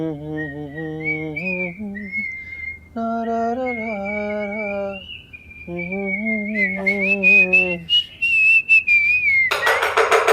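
A person whistles a clear melodic tune in sustained, wavering notes, alongside a hummed harmony line, with brief rustling noise near the end.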